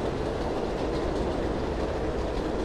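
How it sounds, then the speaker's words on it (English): Elevated N and W subway train passing overhead along 31st Street in Astoria, Queens, a loud, dense, continuous rumble and rattle of wheels on the elevated track, heard close with no talk. "There's the elevated Astoria train."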